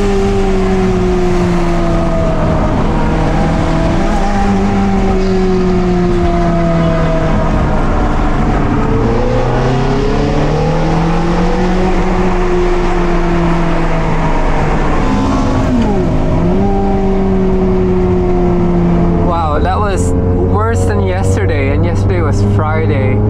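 Porsche Targa engine hums and shifts through gears while test driven in morning traffic, a loud continuous drone rising and falling with each acceleration, with some higher mechanical whines near the end.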